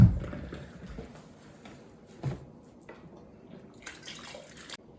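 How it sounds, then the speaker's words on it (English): Homemade beef stock poured slowly, giving a soft gurgle and splash at first, then faint trickles and scattered drips in a quiet kitchen. "Nice and slow, so you try to make less splashes as possible."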